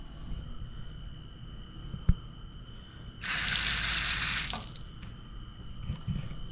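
Water gushes from a pump-fed tap on a 14-gallon overland camping water system, a loud steady hiss and splash lasting over a second after a sharp click, set against a background of insects chirping outdoors.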